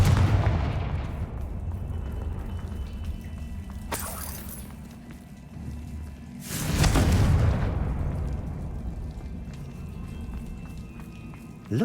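A Confringo fire-blast spell in Hogwarts Legacy goes off as two loud bursts, a sharp broadband crack at about four seconds and a bigger blast near seven seconds, over a continuous low game rumble with no talking.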